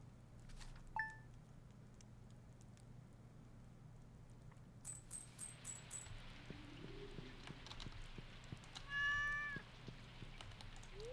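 A pet black cat in the Stardew Valley video game gives a couple of short meows against a quiet backdrop of soft game ambience and light pattering effects, faint and spaced apart.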